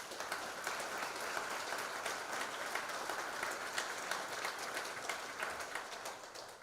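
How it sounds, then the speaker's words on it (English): An audience at a middle school spring concert applauds student singers, a sustained wash of many hands clapping at a moderate distance, steady and even throughout with no voices standing out. "Let's give them a round of applause."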